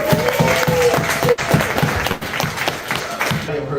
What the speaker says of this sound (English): Give a round of applause for Bobby Slaughter